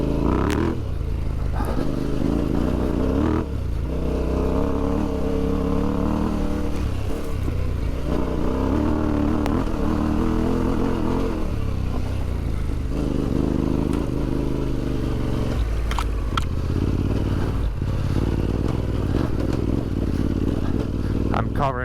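An adventure motorcycle on Motoz Tractionator Desert HT tires, with an ECU tune, works through a technical off-road section, its engine droning steadily and revving under the rider's intermittent talk as gear clatters over rough ground.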